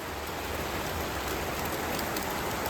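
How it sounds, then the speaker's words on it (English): Steady rain in Ulcinj, Montenegro hisses evenly throughout, a dense wash of falling drops with no other sounds. "It's finally raining here in Montenegro."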